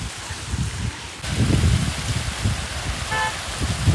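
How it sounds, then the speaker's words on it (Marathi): A car passes by on a rainy road on the Kaas Plateau, its rushing tyre noise swelling midway over steady rain, with a short horn toot near the end. "गाडी"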